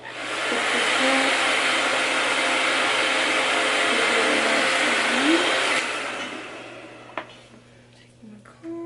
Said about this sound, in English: Take the blow dryer, put this up.